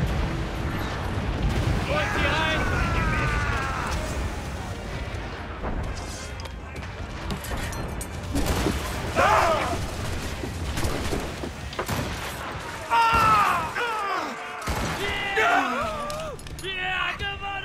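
Ship cannon broadsides during a naval battle in Assassin's Creed Rogue near Fort Blanc: several heavy booming blasts at irregular intervals, loudest around the middle and end, mixed with game voices shouting commands and a player talking over it.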